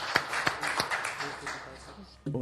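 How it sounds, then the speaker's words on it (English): Council meeting audience applauding, a dense wash of clapping with a few sharper claps standing out, fairly close, mixed with voices and murmuring. "Round of applause."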